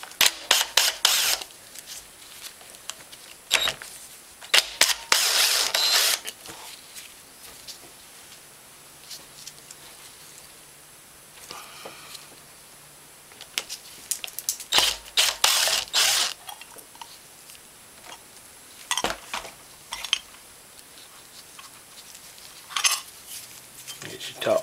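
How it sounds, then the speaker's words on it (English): Screws being removed from the carburetor top plate of a Honda TRX400ex ATV: repeated loud bursts of ratchet clicking separated by quieter gaps, close to the microphone. "on the top, we need to take these three screws out"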